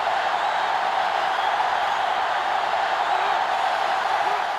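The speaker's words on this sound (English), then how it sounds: "this crowd is going absolutely insane" A stadium crowd roars steadily in NCAA Football 2005 during a college football game, Oklahoma against Notre Dame, producing a dense, even wash of cheering noise throughout with no breaks.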